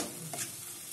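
Masala for a Bengali katla fish dish fries and is stirred in a pan over raised heat, a brief close sizzle with a scraping stir.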